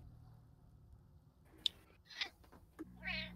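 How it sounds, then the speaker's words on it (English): A cat gives a few soft, brief meows, spaced out and faint over a quiet background. "I heard a meow"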